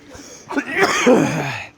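A single short bout of coughing at close range, a couple of harsh bursts followed by a throaty, voiced sound.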